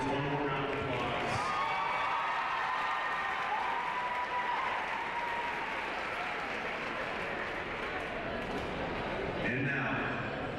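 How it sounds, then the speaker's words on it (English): A crowd in a high school gym applauds during a Midwinter Court ceremony at a basketball game. The sustained clapping and crowd noise run unbroken for about ten seconds, with voices mixed in. "let's give our Queens escorts one more round of applause."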